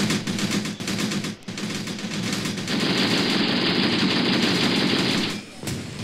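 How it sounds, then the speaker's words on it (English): Sustained machine gun fire in the Graviteam Tactics video game, rapid and loud, continuous over several seconds with brief breaks, and a voice speaking faintly beneath it. "That gunfire is going to keep most of our men down"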